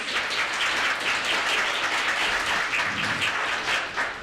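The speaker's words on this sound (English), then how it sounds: "let's please give them a round of applause" A crowd applauds steadily, a dense wash of many hands clapping at close range for the whole stretch, with no voices.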